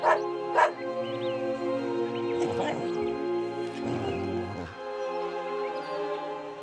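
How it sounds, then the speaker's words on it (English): Wild street dogs bark in sharp bursts, then whimper and yip in a busy cluster of close, overlapping calls. "He lived among the wild street dogs"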